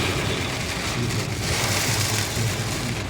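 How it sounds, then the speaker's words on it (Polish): Heavy rain during a thunderstorm in Oborniki Wielkopolskie, Poland, hisses in a dense, steady wash, loud and continuous, with a faint low rumble underneath and no voices. "Pięknie pada."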